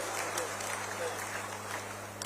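Continuous crowd clapping, a dense steady patter of many hands from a large audience, heard from a distance amid a humming background.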